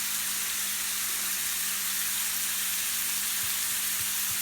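Vegetables for Philly cheesesteaks fry in a pan with a steady, dense sizzle that holds evenly throughout, close and fairly loud, with a few faint low knocks near the end and no talking.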